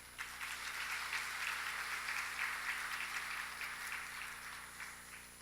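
Congregation applauding together during a Korean Wednesday evening church worship service, a steady, sustained wash of many hands clapping at moderate distance, with no talk over it.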